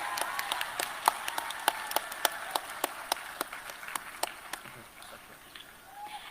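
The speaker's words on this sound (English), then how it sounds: "can we please have a huge round of applause for him once again" A thin round of clapping for a guest speaker, a professor, at a university event: sparse, distinct claps at a fairly even rhythm, as if from a few people, fading after several seconds with faint background murmur.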